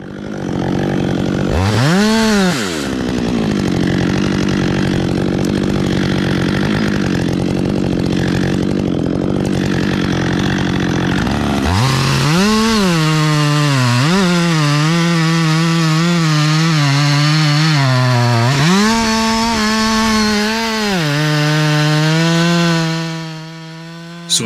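Chainsaw cutting fir trees into firewood rounds, a loud close engine rising and bogging as it bites into the wood, revving between cuts, running continuously with no talk.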